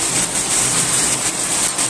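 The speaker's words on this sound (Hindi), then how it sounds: "देखो कितनी तेज बारिश आ रही है हमारे यहाँ पे, दमादम ऐसी मोटी मोटी बारिश आ रही है।" Heavy rain pours steadily during a downpour, with water pooling on a balcony; a dense, continuous hiss fills the scene at close range, loud and even, with no voices.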